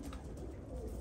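Young, healthy European-bred pigeons coo softly and low in a loft, a brief muffled throaty murmur, quiet and close, with no talk.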